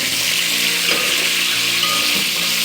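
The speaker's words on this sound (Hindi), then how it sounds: "अब इसमें हम बीफ ऐड कर देंगे और इसको बिल्कुल ज़रा सा भूनेंगे" Beef frying in a karahi with a loud, steady hiss and sizzle, close by and continuous, with faint stirring underneath and no talk.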